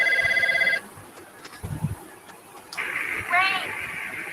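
A telephone rings with a brief electronic trill, then goes quiet. A later warbling tone follows, and murmured, distorted voices whisper in the background.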